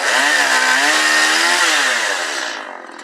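Firewood-cutting saw machine slicing through a log, a loud continuous whining buzz that holds steady for most of the clip, then eases off toward the end; close by, with no voices.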